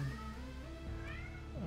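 A cat meows a few times in quick succession, short drawn-out calls that rise and fall, fairly close and clear with no talking over them.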